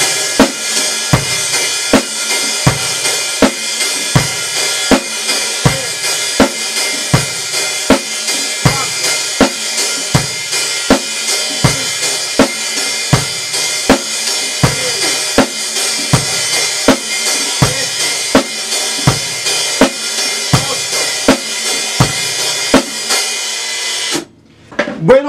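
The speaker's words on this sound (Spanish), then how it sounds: "voy a tocar los contratiempos hi-hat o charles a medio abrir" Half-open hi-hat on a drum kit hit on every off-beat, a steady, evenly spaced sizzling wash that stays loud and busy for the whole stretch, with no one talking.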